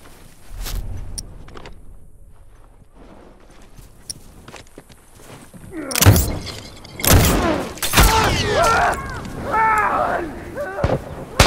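Gunfire and explosions in The Last of Us Remastered, with loud sharp bursts and booming blasts in the second half following quieter footsteps and shuffling, while in-game voices call out.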